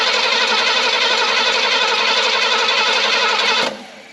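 A neglected Pontiac Grand Prix from a tow yard runs after its carburetor is filled, a loud, steady, broadband engine roar close by that drops away abruptly near the end.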